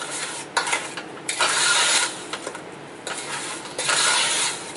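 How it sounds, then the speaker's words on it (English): Frozen peaches being stirred gently in a pan or bowl for a peach cobbler, giving a soft scraping and rustling with a few brief louder swishes, close and steady, with no voices. "Now you don't want to stir these too hard because you don't want to break up your peaches."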